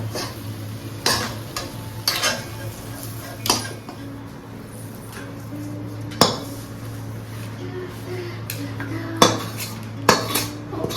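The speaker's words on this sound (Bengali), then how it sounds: "মধ্যে আর অল্প একটুখানি ঘি মিশিয়ে দেবো" A spoon stirs besan milk cake mixture with ghee in a pan over a steady low sizzle, with repeated sharp metallic scrapes and clinks against the pan, close and fairly loud.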